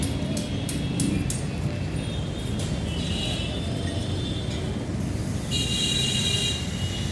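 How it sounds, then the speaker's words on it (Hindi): A metro train rumbles past nearby at Adarsh Nagar metro station in Delhi with a steady roar, faint squeals of wheels on rails rising through it, no talking. "नियर बाई ये मेट्रो जा रहा है।"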